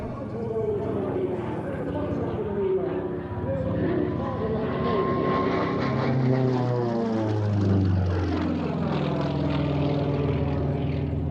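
An aerobatic propeller aircraft with a 460 hp engine and a 2.6-metre three-blade propeller roars loudly and steadily overhead at an air fair, its engine pitch rising and falling as it moves, while a voice talks over it.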